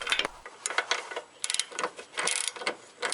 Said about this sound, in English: Remove the front bolt and loosen the rear nut.